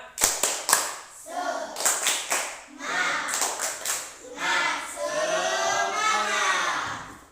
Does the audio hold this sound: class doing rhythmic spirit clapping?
yes